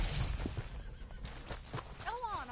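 A horse in Red Dead Redemption 2 snorts, then gives a rising and falling whinny near the end of the clip, with hooves clopping and faint background game noise.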